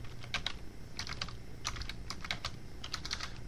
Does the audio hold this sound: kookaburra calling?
no